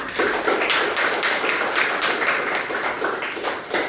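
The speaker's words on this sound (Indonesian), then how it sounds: "Nah, sekali lagi Ibu minta tepuk tangannya untuk kita semua." Children and a teacher clap together in an elementary school classroom, a steady wash of brisk hand claps at moderate volume lasting the whole moment, with no voices on top.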